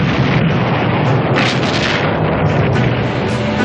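Big guns of the battleship Missouri firing in shore bombardment during the Korean War, a continuous loud, dense roar of blasts with no pauses, as on an old newsreel soundtrack.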